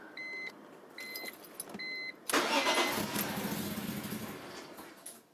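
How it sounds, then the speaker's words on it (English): BMW E46 M3 engine cranking during a compression test, preceded by three short paired electronic chimes from the car, then a loud, sustained starter-and-engine roar that slowly eases off over several seconds. "The next step is to start the car and just let it die or try to crank."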